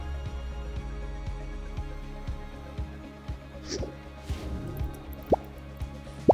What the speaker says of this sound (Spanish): Vamos a llenar esta botella de gas oxihidrógeno, que es el gas que expulsa nuestro electrolizador